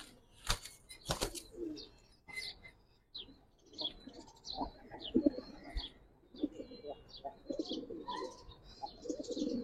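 Pigeons in a loft of Giribaz flying pigeons, with repeated bursts of wing flapping, soft cooing and scattered chirps, fairly close, with faint background voices.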